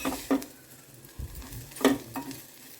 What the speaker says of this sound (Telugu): ఇక ఇప్పుడు కొబ్బరి ఫ్రై అయింది మంచిగా.